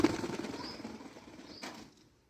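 A pigeon being caught flaps its wings in a short, close flurry that fades out within about two seconds, with no speech.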